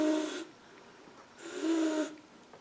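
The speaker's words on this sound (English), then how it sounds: "we are going to make our own personal instrument that is sort of a combination between a harmonica and a kazoo." A homemade harmonica-kazoo built from two popsicle sticks, three rubber bands and pieces of plastic straw gives two buzzy, breathy honks, each about half a second long, separated by a pause, close and fairly loud.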